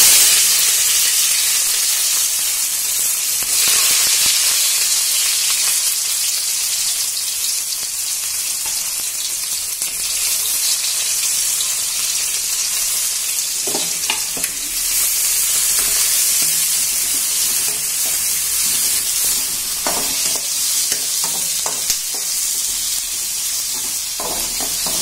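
Onions, curry leaves and green chillies fry in a pan in a steady, loud sizzle lasting throughout, with occasional louder crackles and stirring scrapes, no voices.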